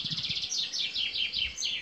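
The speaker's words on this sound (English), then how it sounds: "a chaffinch is different from the robin, the song thrush and the blackbird, and the fact that it sings a repetitive phrase all day" A chaffinch sings its repetitive song, one of the dawn chorus songbirds. Bright, close phrases of rapid chirps repeat in quick succession, loud and clear with nothing else heard.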